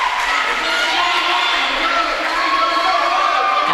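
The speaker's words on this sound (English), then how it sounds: "everyone's cheering" A crowd cheers loudly and steadily at the finish of a high school swimming meet against Hagerstown, with shouting voices echoing in an indoor pool hall throughout.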